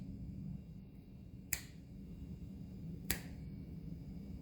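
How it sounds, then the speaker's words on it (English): Two crisp finger snaps ring out about a second and a half apart over a quiet background hum, each short and sharp. "So I'm going to just snap my fingers here and..."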